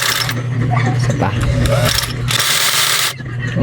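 Baby Lock overlock sewing machine stitching thread with a steady mechanical whir and rapid clatter, loud and close, starting and stopping briefly; a voice speaks over it.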